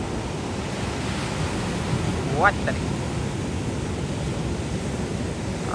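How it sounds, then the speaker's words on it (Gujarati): A steady, roaring wash of surf, big sea waves about ten feet high breaking continuously in stormy weather with wind noise, while a voice briefly speaks midway. "આમ જુઓ ઓ બાપા તાલી તા મોજા ભાંગતા આવે"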